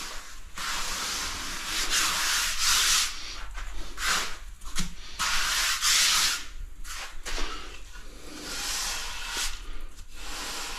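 Steady rough scraping as a screed drags wet mud flat beside a strip drain, long rasping strokes repeating in a loose rhythm, close and fairly loud, with no one talking.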